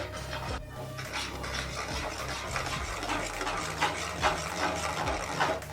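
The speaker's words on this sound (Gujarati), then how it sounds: "ચણા લોટ માં તો કન્ટિન્યુ હલાવવાનું છે" Steady scraping and rubbing of a spoon through a thick methi and besan batter in a pot, with continuous close stirring strokes and soft knocks against the metal sides.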